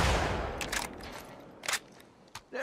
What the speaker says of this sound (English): Makes me wonder how the gunshot didn't lure any infected towards your area.